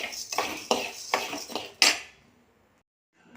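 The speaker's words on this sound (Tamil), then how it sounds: "இதையும் அதே மாதிரி கைவிடாமல் கிண்டி பொண்ணு ஒருவலை நல்லா வறுத்துக்கிறணும்." Urad dal roasting dry in a pan is stirred in quick rhythmic strokes, each a rattling scrape of the spoon and grains against the metal, about six strokes before falling silent.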